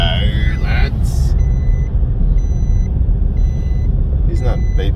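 A vehicle's reversing alarm beeps in a slow repeating pattern under a low engine rumble, with a voice speaking briefly at the start.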